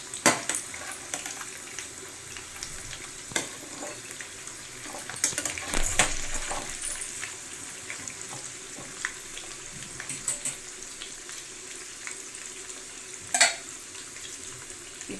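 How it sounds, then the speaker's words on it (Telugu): Chicken curry fries slowly over a low flame, a soft continuous sizzle close by, with scattered crackles and a few louder pops, and no one speaking. "మెల్లిగా సిమ్లోనే వేగాలి, అప్పుడే మాడకుండా ఉడుకుతుంది చికెన్."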